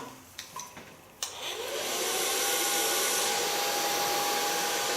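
A few soft handling bumps and clicks, then a hair dryer switches on and blows with a steady, loud whirring hiss close by.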